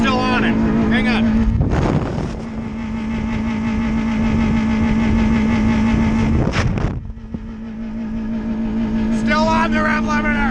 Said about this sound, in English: Still on the rev limiter.